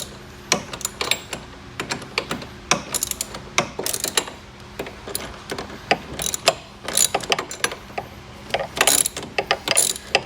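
A wrench tightens a 13 mm bolt while assembling a Venom 1500W E-Grizzly electric ATV: bursts of quick ratchet clicks close by, broken by short pauses and growing busier toward the end.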